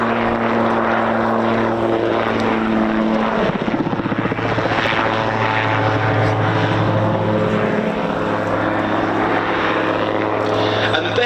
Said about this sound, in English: the rotor blades on the auto gyro, apart from the spin-up mechanism we saw being used before the start of the takeoff roll, are completely freewheeling in flight